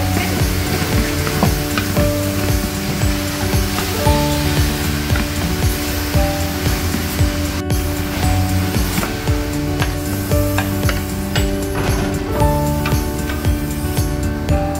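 Squid and king oyster mushrooms being stir-fried with bought bulgogi sauce in a pan, a loud continuous sizzle with steady stirring and scraping throughout, no voices.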